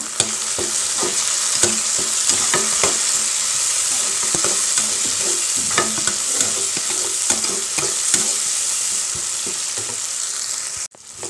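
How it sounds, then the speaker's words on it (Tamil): Onion and tomato sauté in oil in a pan for a South Indian okra tamarind curry, a loud continuous sizzle broken by regular scraping stirs, with no talking. "வெங்காயம் தக்காளி இதெல்லாம் எந்த அளவுக்கு வதக்குறோமோ அந்த அளவுக்கு டேஸ்ட் கிடைக்கும் அதனால் நல்லா வதக்குங்க"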